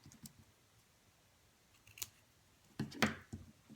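Scissors cut a paper word apart for a shadow box craft, a couple of faint quick snips and a rustle of paper near the end, quiet and close, with no talking.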